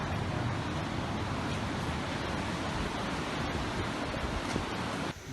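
Water rushes at the Elephant Waterfall near Dalat, Vietnam, a constant broad roar of white noise that stays steady and unbroken, with no voices heard.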